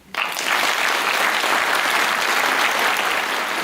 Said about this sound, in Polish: prosimy o brawa dla tych pracowników